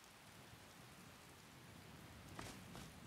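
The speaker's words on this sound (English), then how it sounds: "And of course it's raining." Steady rain in the modded video game Skyrim, a soft continuous hiss of falling drops, fairly quiet, with a few faint sharper splashes near the end and no voices.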